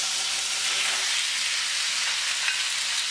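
Chicken pieces fry in hot oil in a frying pan over high heat, giving a steady, bright sizzle and crackle that stays even and close for a few seconds, with no talking.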